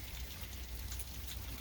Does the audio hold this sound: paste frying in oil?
no